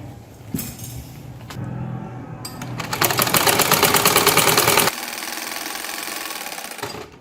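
A sewing machine runs a second line of stitching along a salwar mohri hem in a butterfly-ties design. It starts with short starts and stops, then settles into a loud, fast, steady mechanical chatter for a couple of seconds before easing to a lighter hum.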